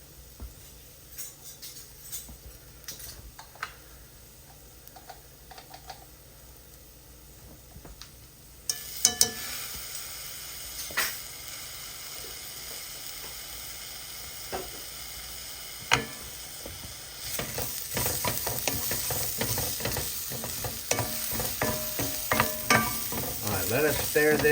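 Rice and minced garlic brown in a hot pan for Spanish rice, a soft sizzle under scattered spoon stirs and scrapes that grows louder and busier partway through.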